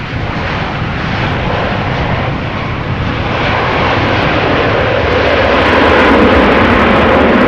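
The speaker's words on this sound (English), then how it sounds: "This Latam cargo 767 has been flying for 8 hours and 20 minutes now." A LATAM cargo Boeing 767 jet, seventeen years old, roars loudly and continuously at Amsterdam Schiphol Airport in stormy weather, a broad sustained engine rumble that builds slightly toward the end.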